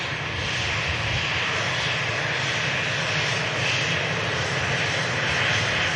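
A TUI airliner takes off at Manchester Airport, its jet engines producing a loud, steady, broadband roar that holds constant throughout and stays alone without voices.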